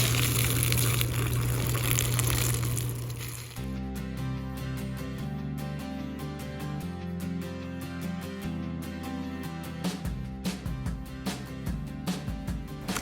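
Water sprays hard from a power washer onto a vinyl-wrapped tumbler, a loud hissing gush for a few seconds before it gives way to softer running and splashing water with occasional clinks.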